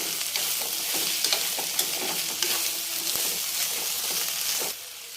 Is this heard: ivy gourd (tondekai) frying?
yes